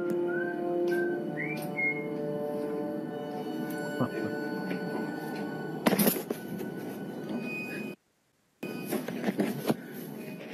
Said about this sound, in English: he places the camera on a table and whistles once again